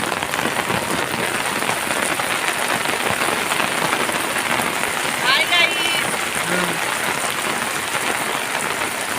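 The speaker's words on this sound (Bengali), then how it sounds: "কি পরিমাণে বৃষ্টি পড়ছে আজকে, প্রচণ্ড হারে।" Heavy rain pours steadily throughout, a dense continuous hiss of drops hitting surfaces, with a brief faint voice or noise partway through.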